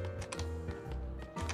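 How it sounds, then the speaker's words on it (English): Computer keyboard keys tapped in short irregular clusters during emulator gameplay of a Nintendo 3DS game, close and moderately quiet over a steady background hum. "So if I want to move around, I'm going to use the keyboard."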